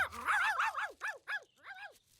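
A cartoon puppy barks, several quick yappy barks and yips in a row, close and clear with no speech over them.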